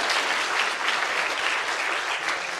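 Audience applause greets a volunteer at a science lecture, a dense and steady roar of many hands clapping at once that stays close and even for the whole stretch.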